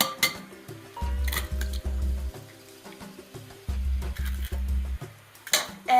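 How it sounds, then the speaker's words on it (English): Whisk or spoon clatters briskly against a bowl while mixing pancake batter with melted butter and egg, a series of rapid clinking scrapes in bursts with short pauses, close and fairly loud with music underneath. "And mix very quickly or else the egg is gonna cook"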